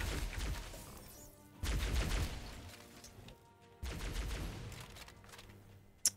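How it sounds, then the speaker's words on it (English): Bursts of gunfire and heavy weapon blasts from a modded Halo 4 video game, two long loud volleys separated by quieter stretches, ending with a sharp hit; no talk. "Love the weapon sounds in this game."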